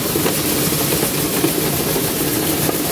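A corn processing machine runs with a steady, loud mechanical roar and a constant low rumble. Faint rattles recur throughout, and no voices are heard.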